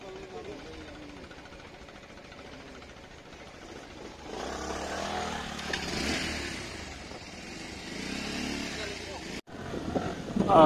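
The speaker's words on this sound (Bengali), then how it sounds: "আমরা বাইক নিয়ে পার হয়ে হচ্ছে আবার রওনা দিলাম" A motorcycle rides off after a crossing on the way to Kuakata, its engine rumbling and rising as it pulls away, with people talking over it and a louder burst near the end.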